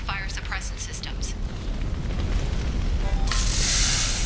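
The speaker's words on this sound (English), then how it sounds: "These damaged pipes are on fire." Damaged pipes burn in the Mass Effect 2 video game, a steady low roaring rumble that lasts throughout. It opens with faint electronic chirps and ends with a loud rushing hiss.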